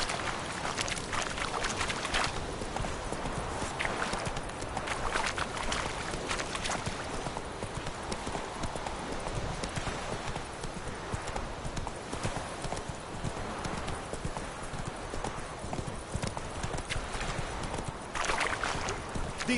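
Geralt's horse Roach gallops in The Witcher video game, a steady, continuous clip-clop of hooves running for the whole stretch, with no talk over it.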